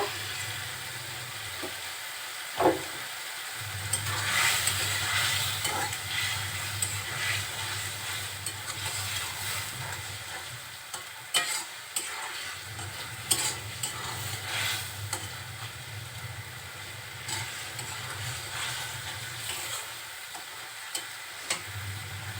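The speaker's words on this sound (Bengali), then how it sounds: "ঢাকনা উঁচু করে আবার একটু নেড়ে চেড়ে দিব" Fish curry cooking in a pan, stirred with the lid lifted: a continuous sizzle carries scattered scraping and clicking stirs, with a sharp knock near the start. No one speaks.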